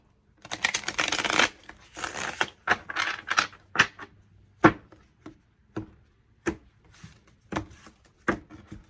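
A quick riffle of tarot cards, followed by a series of soft, separate taps and slaps as cards are handled, close and fairly quiet.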